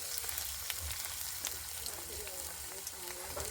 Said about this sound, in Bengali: কড়াই তেল দিয়ে দিয়েছি, এবার স্টক গরম হয়ে গেছে। এবার পেঁয়াজ দিয়ে দেবো।